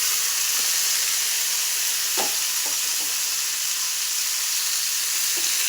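Large chunks of tomato fry in hot oil in a pan for tomato chutney, making a loud, continuous close-up sizzle with a few soft stirring knocks.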